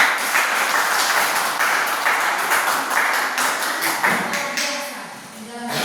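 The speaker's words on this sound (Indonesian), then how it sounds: "Tepuk tangan." Students in a classroom clap their hands together in a loud, fairly steady burst that rises in separate sharp strikes, tapering off toward the end as a few voices come through.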